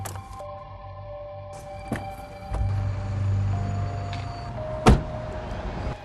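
A car is started with the key: a few clicks and short mechanical whirs, then the engine catches into a low, steady idle, followed by a sharp thump near the end.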